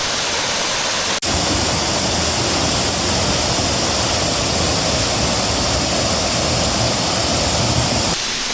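A small waterfall on a jungle trail in Bilaichhari, Kaptai, Rangamati, gives a loud, close, continuous rushing roar of falling water. The roar is steady throughout, with no talking.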